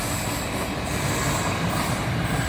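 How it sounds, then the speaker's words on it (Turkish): A train passes near a village cornfield, giving a steady, loud rumble of rolling wagons with broad noise throughout and no talking. "Trenimiz de geçiyor."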